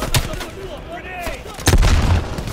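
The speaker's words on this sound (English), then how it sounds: "Grenade!" Grenade blast and gunfire in Call of Duty: Black Ops Cold War: sharp shots crack early, then a loud, close explosion bursts and rumbles out over the last second, with voices in the background.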